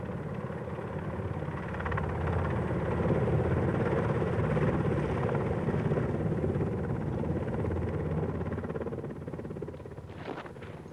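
A helicopter's engine and rotors roar steadily and loudly throughout, easing off slightly near the end, in Aden in 1964.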